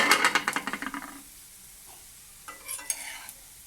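Crushed onion and chili tempering in a hot pan while appam is being made: a burst of sizzling and stirring scrapes for about a second, then quiet, then a few fainter sizzles near the end.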